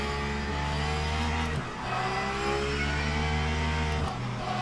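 Race car engines in the video game Le Mans Ultimate during a formation lap, a steady loud drone with a brief dip and gear change midway, no voices over it.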